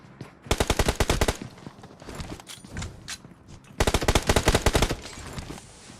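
Two loud, rapid bursts of automatic gunfire in PUBG Mobile bracket a stretch of scattered single shots and clatter, all close and sharp.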